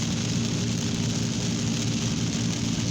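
Steady rain pours down during an afternoon thunderstorm in Van Wert, Ohio, under a severe thunderstorm warning, a dense unbroken hiss of drops close by with no voices.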